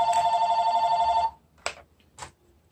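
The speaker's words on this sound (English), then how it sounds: "Grandma, answer the phone." Home telephone ringing with a rapid trilling electronic bell for just over a second, then stopping, followed by a couple of faint clicks and brief sounds in a quiet room.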